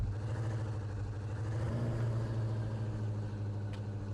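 Car engine in the Parking Garage Simulator game, a steady low hum with a slight rise in revs midway, running continuously and fairly loud with no talk over it.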